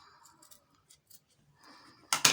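Scissors notch fabric while a sewing pattern is cut for a princess-seam bustier, heard as a couple of sharp, close snips at the end after faint handling rustles.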